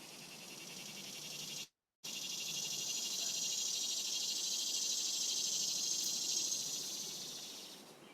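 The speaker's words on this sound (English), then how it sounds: "the song of the male swamp cicada." A recorded song of a male swamp cicada: a steady, loud, continuous high-pitched buzzing drone that holds for several seconds, briefly cuts out near the start, then swells slightly and fades toward the end.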